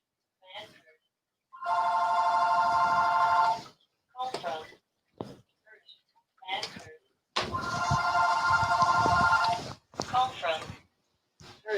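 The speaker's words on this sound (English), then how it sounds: "And now someone's calling me on the phone." An old-style telephone bell rings in two long, loud electric trills, each lasting about two seconds, with bursts of speech in the gaps between them.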